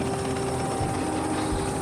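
A military helicopter thunders in a steady, loud drone with a constant rotor throb and engine whine, filling the entire stretch without pause or voices.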